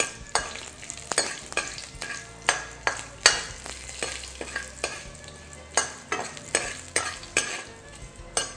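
Ginger and chana dal sauté in a hot oiled pan with mustard seeds, a constant sizzle broken by regular sharp scrapes and clacks of a spoon stirring, close and fairly loud.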